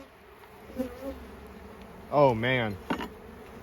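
Honey bees hum at an open hive while an outer frame of once-capped honey is inspected, a steady low drone under brief close talk, with a few louder buzzing passes near the microphone.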